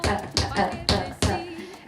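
A Cuban bembe rhythm played as sharp percussive hits, four strong strikes in a swung pattern with softer taps between them, close and dry.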